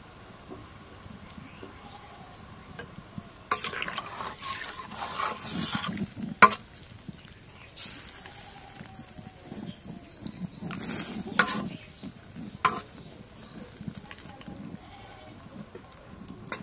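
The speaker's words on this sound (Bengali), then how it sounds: "এখন মাছগুলো দিয়ে দিই।" Swarna puti fish is frying in a pan with cauliflower, giving quiet, uneven sizzling broken by repeated stirring and scraping knocks, with a few louder clanks of spoon against pan.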